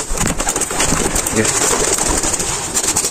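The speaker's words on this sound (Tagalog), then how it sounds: "Yun mga kalapatids, yan ang ating ibon." Racing pigeons coo close by, soft rolling calls mixed with flutters and wing movement, while someone talks over them throughout.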